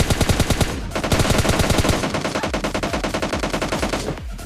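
Rapid automatic gunfire in PUBG Mobile Lite knocks down an enemy, a fast, even rhythm of loud, close shots sustained through most of the stretch with a brief pause near the end.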